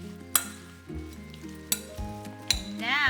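Brussels sprouts, about a pound, crackle in roughly two tablespoons of olive oil in a pan, a steady sizzle broken by a few sharp utensil clinks as they are stirred, close and fairly loud with no talking.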